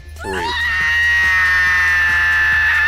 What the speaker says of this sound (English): I'm gonna throw in a Sunohara scream.